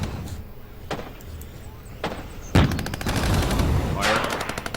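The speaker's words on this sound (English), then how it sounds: "I really like the firing and of course, the damage to the actual terrain itself, the gun sounds." Gunfire in the video game Regiments: sharp shots and a rapid automatic burst with heavy impacts, over ongoing battle noise and faint talk.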